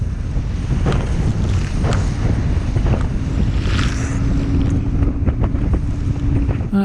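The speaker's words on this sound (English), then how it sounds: "That doesn't mean I wasn't taking a pounding." A small boat on Loch Linnhe pounding through rough, wind-driven waves, with roaring wind buffeting the microphone, repeated hull slaps and splashes, and a steady engine drone beneath.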